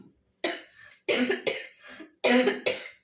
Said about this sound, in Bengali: বুঝতে পারছো কিরকম কাশি হচ্ছে